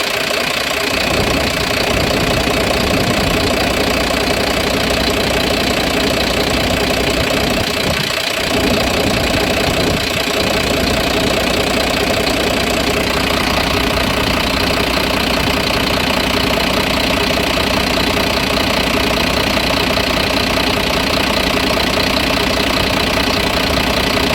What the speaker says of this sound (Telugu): ఇంజన్ యొక్క నాయిస్ని మనం అబ్జర్వ్ చేస్తున్నాం మిత్రులారా